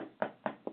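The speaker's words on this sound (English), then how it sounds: "I'm knocking on some solid wood over here." Three crisp knocks on solid wood, evenly spaced, close and alone.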